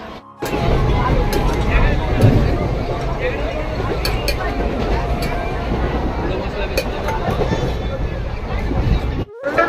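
Rumbling train noise fills the scene, a steady rattle of carriages with occasional clicks and voices murmuring throughout.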